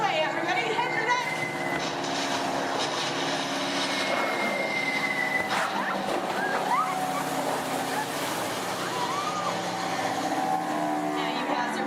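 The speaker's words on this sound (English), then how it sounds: "You hear more enemy planes approaching." Bomber plane engines drone steadily overhead on a theme park ride, a continuous rumbling roar that holds throughout without breaks.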